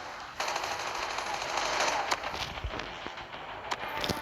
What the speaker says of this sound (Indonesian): Oh, menang gara-gara sentry gun guys.